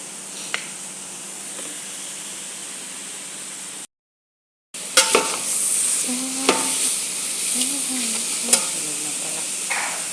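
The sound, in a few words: onions frying and being stirred in a pan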